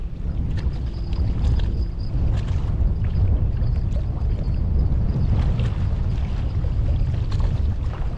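A continuous low rumble of boat and jet ski motors and water churning somewhere out on a lake, heard from the bank, steady and moderately loud with light wind noise.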